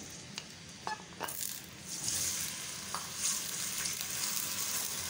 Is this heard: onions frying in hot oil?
yes